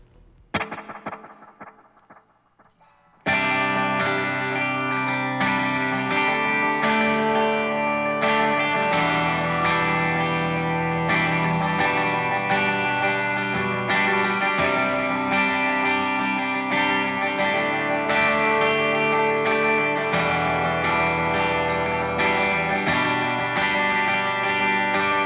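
Electric guitar played through two chained delay pedals, the first set to 16th notes feeding a second at dotted eighths, a brief plucked intro then dense, shimmering repeating strums layered continuously and loudly.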